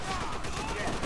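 Dense gunfire from a Call of Duty: World at War battle, continuous crackling shots layered over a steady din, with a voice talking faintly in the background.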